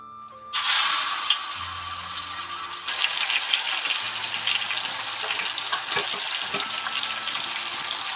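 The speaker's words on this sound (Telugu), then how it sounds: "నూనె బాగా కాగాక కొరమైన ముక్కలు వేసుకో" Pieces of korameenu, spotted snakehead fish, hiss and crackle in hot oil, a sudden loud sizzle bursting in at the start and holding steady and dense throughout, with scattered pops, close up and with no talking.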